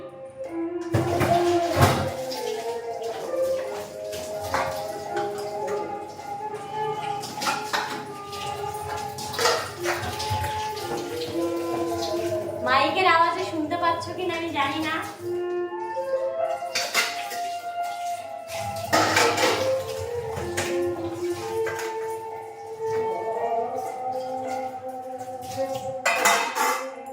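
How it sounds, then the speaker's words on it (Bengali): Dishes, pots and cutlery clatter and clink at a kitchen sink as a large pile is washed, with running-tap sounds and scraping in irregular bursts, near and fairly loud, with a voice speaking briefly over it. "অনেক বাসন জমেছে, এগুলো ধুয়ে ফেলি তাড়াতাড়ি।"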